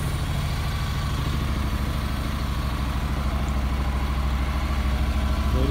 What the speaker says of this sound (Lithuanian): Variklis dirba gražiai, be pašalinių garsų.